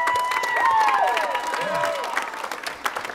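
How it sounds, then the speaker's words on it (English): An audience at a school pops concert applauds soloists with steady clapping and some cheering and whistles throughout. "You can give them a round of applause."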